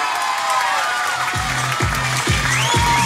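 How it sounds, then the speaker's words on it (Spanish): Applause for the king and queen at a party gala, a crowd clapping and cheering at moderate distance over loud dance music with a thumping beat. "Sofía, por favor, le damos un aplauso grande"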